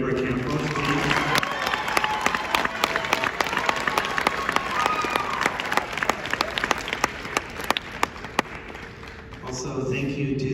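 Applause from the audience at a high school graduation ceremony fills the space, dense sustained clapping from a large crowd with sharp individual claps on top, fading slightly near the end.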